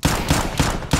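Pistol shots from a Desert Eagle in a video game ring out four times in quick, even succession, each a loud, booming crack that fills the mix, with no talk over them.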